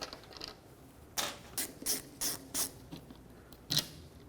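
Phillips head screws being backed out of the third brake light on a 2009-2014 Ford F-150: about six short ratcheting clicks in quick bursts, close up and fairly quiet, with no talking.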